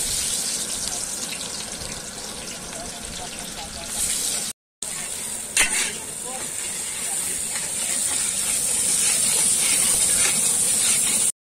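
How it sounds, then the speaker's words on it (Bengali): Onions fry in hot oil for biryani, a loud steady hiss and spatter with a short break and a sharp crackle before the sizzle builds again and grows brighter. "চলো এখন পেঁয়াজটা ভেজে নেবো।"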